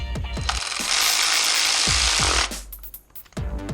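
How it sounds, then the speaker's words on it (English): A ratchet tightens the oil pressure sensor bolt on a Jeep JK 3.6L Pentastar V6 with a series of close, sharp clicks around a sustained buzzing whir, ending in a few scattered taps. "Start our bolt by hand and tighten it down."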